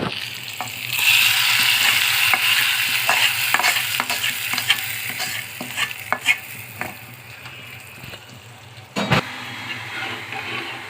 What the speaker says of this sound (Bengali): এখন আমি ডাইলের ভিতরে ঢেলে দেব।